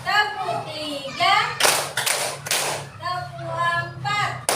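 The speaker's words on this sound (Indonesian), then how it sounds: "Tepuk 1. Tepuk 2. Tepuk 3." Children at a Scout (Pramuka) gathering clap together in short bursts between spoken chants, the claps coming as brief loud rounds of many hands amid sing-song voices.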